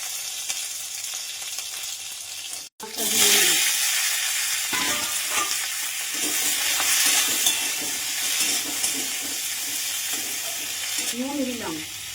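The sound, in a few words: bay leaf, dried and green chillies, panch phoron sizzling in oil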